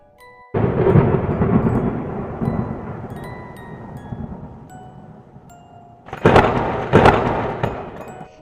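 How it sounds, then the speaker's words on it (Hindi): Heavy rain pours during a night storm while thunder rolls in a long, loud rumble that fades, then two sharp, close cracks burst out near the end. "बहुत जोरदार बारिश भी हो रही थी।"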